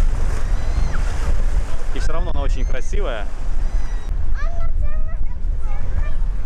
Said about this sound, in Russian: я сам себя не слышу, так задувает